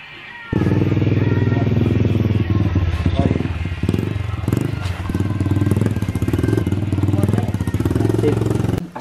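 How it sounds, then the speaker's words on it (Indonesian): A motorcycle fitted with a loud aftermarket exhaust runs close by at night, its engine sounding a harsh, throbbing drone with rough pulses, while people talk over it. "aya suara motor gandeng asup ka dieu"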